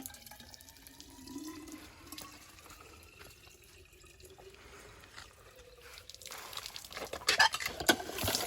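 Water drawn from a village tubewell trickles and splashes, faint at first and growing louder and more gushing in the final seconds, with no talk.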